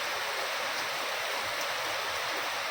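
Steady rain falls on a monsoon day in July, a soft continuous hiss with no clear individual drops, quiet and even throughout with no voices.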